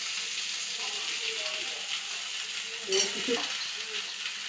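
A chire and mashed potato cutlet mix with chopped chili and ginger is stirred and fried in a pan, giving a quiet steady sizzle with a few scraping stirs and clinks, while a voice speaks briefly.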